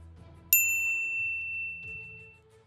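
A single bright notification bell ding strikes sharply and rings briefly, with a faint low musical bed underneath and no voices.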